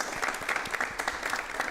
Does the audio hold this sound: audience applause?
yes